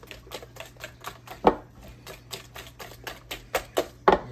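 Butterscotch pecan pie filling with regular corn syrup stirred in a bowl, a steady run of quick clicking and tapping strokes, close and fairly loud, with a few sharper knocks near the end and no talking.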